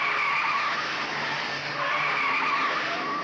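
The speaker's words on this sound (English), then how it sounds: "Moffat accelerates the GTHO to something around 140 miles per hour down Conrod" A Ford Falcon GTHO race car at the 1971 Bathurst Hardie Ferodo 500 howls at high speed down Conrod Straight, a steady loud engine roar with a rising and falling pitch and no voices.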